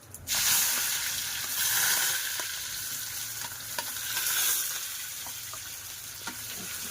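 Curry leaves and onion frying in a pan for a dried Bombay duck curry, a constant bright sizzle and crackle with occasional sharp pops, close and steady throughout.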